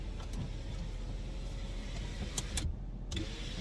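A car engine runs steadily at a strong, even pitch, close and continuous, with a couple of brief clicks and a short dropout near the end.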